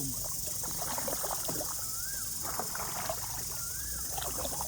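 A small rowboat paddled upstream against the current at a natural spring-fed stream in Khao Yai, with steady water swishes and soft splashes from the strokes, plus faint bird chirps in the background.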